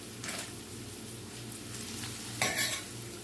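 Mashed garlic frying in a pan with seasoning and potatoes for breakfast home fries, giving a steady low sizzle with soft stirring scrapes and one brighter scrape near the end.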